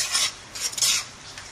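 Besan kofta masala spice paste frying in a pan while being stirred, giving bursts of hissing, scraping sizzle that rise and fall with each stroke, close and fairly steady with no talk.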